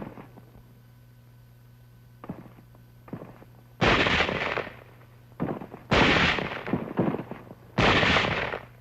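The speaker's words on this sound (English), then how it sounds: "Elements of the 38th Division moving inland over rough hill country run into some sniper fire." Sniper gunfire as elements of the 38th Division push inland over rough hill country in WWII newsreel footage: a few faint cracks, then three loud, sharp reports spaced a couple of seconds apart over a low background hum.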